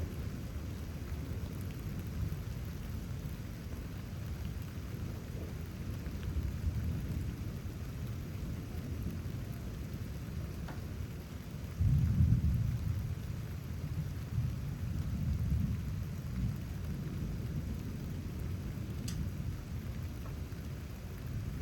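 Thunderstorm approaching Houston, Texas, with low rolling thunder rumbling under a steady wash of rain; a stronger rumble swells near the middle and fades out.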